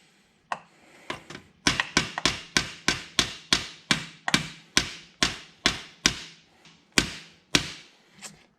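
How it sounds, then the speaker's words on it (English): A hammer taps a bent round motorcycle part, about fifteen sharp metallic strikes in a fairly steady rhythm, close and loud, each ringing briefly, with no talking. "we're gonna go ahead and see if tapping it with a hammer will fix it."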